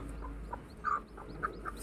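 A hen gives a few soft, scattered clucks over a low background hum, fairly close and quiet.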